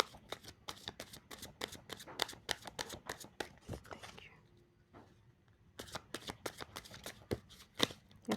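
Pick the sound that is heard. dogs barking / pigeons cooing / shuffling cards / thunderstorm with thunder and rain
shuffling cards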